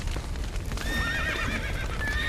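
Horses whinny and neigh inside the stables in The Witcher 3, a clear rising cry over a steady bed of background noise and hoof clatter, with no talking.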